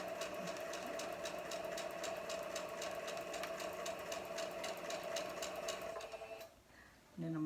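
A sewing machine stitches a Halloween quilt block in one steady, rapid run of needle strikes over a motor hum, then stops abruptly near the end and is followed by a brief clunk.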